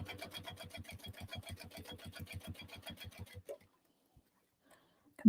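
A sewing machine topstitches around a bag within the seam allowance in a fast, steady run of needle strokes, then stops abruptly, leaving near silence with a few faint clicks.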